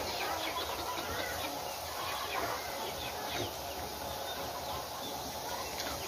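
Chicks and young fowl clucking and peeping as rice is scattered for them to eat, a steady busy flock chatter throughout with faint voices in the background.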